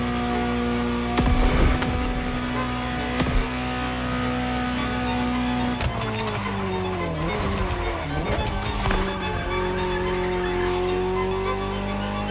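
A Ferrari GTO, the 308-based Gran Turismo Omologato, drives in The Crew Motorfest racing game, its engine note loud and continuous, rising and falling through gear changes with bursts of tire noise and a few sharp transient knocks.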